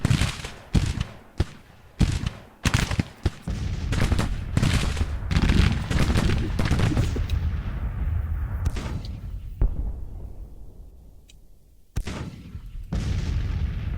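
Massed musket volleys and artillery booms from the Grand Tactician: Civil War battle game, a rapid run of sharp cracks and blasts in the first seconds, then a dense rolling roar of fire that fades and returns with fresh shots.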